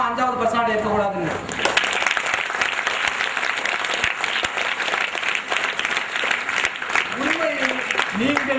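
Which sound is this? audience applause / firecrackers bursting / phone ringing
audience applause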